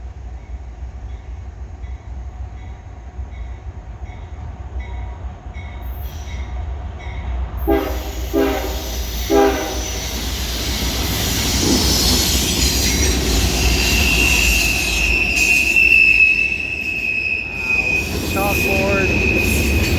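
A CSX mixed freight train with two locomotives rolls past at Point of Rocks, Maryland, with loud steady rumbling, clanking wheels and rising wheel squeal, plus a horn-like tone partway through.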